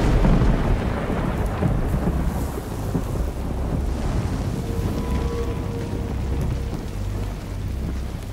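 Steady heavy rain and low rumbling thunder from a Naughty Dog video game, a dense continuous wash with no speech.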